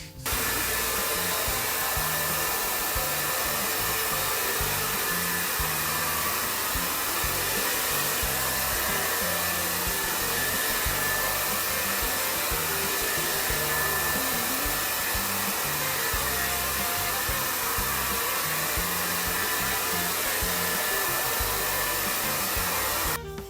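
A hair dryer blows continuously at close range, drying hair after a Brazilian blowout treatment, a loud steady whooshing roar with a constant motor whine that never lets up, with no voices.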